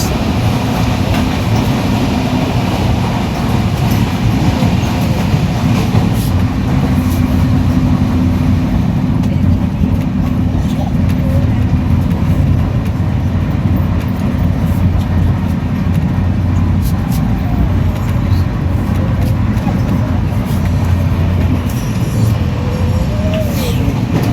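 Train 12863 runs from Howrah to Katpadi, heard from inside a 3AC coach as a loud, constant low rumble with steady rattling of the carriage, and faint voices murmur now and then underneath.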